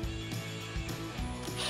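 An 11mm wrench and socket ratchet a brake line bracket bolt tight on a Jeep Wrangler JK, producing close, quick, evenly spaced metallic clicks in a steady rhythm.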